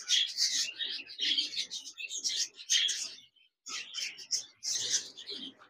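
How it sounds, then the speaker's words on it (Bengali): A pair of big, double-flower Japanese budgerigars chatter and chirp in rapid, high warbling bursts close by, with one short pause midway. "এখানে দেখতে পাচ্ছেন একজোড়া জাপানিজ বাজরিকার রয়েছে"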